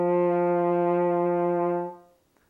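A French horn playing a low open C with no valves pressed: one steady, sustained mellow note held for about two seconds before it stops, played alone.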